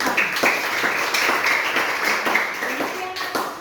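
A group claps hands in a classroom for a few seconds, the claps close and fairly loud amid a murmur of voices.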